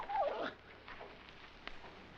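A dog gives a brief, high, whining whimper at the start in an outdoor western-drama scene, followed by a quiet stretch with faint rustling and a small click.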